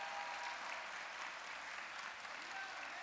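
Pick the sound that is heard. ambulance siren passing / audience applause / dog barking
audience applause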